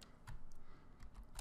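Ctrl, Shift and L are pressed on a computer keyboard: a few soft, quick key clicks, faint and close against a quiet room background.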